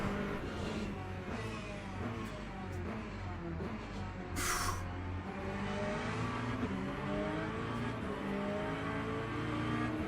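Race cars running three wide at Sebring in Le Mans Ultimate, McLaren, Aston Martin and BMW GT machines with layered engine drones rising and falling, revving close by in a steady, continuous roar.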